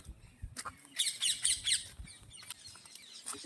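Harsh, shrill parrot squawks and chirps come in bursts, fairly close, with a few softer calls and thumps between them.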